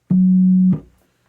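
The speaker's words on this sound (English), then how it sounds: "So that AFM element is now initialized and sounds like this." A single steady initialized FM tone from a Yamaha TG77/SY77 synthesizer, buzzy low fundamental and harmonics, held about half a second, then cut off, leaving a brief decaying tail.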